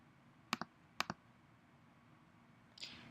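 Mouse clicks apply a search filter, heard as two quick pairs of sharp, close clicks about half a second apart, then a softer rustle in an otherwise quiet room.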